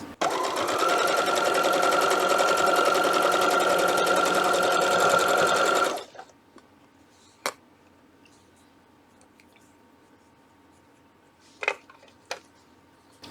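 A sewing machine runs steadily for about six seconds, a loud continuous mechanical whir, then stops, leaving quiet with a few scattered clicks and taps.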